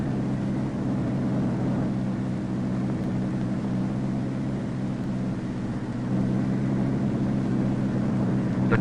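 Convair XF-92 delta wing aircraft on its first takeoff and climb, a steady broad jet roar holding at constant loudness throughout, with no voices.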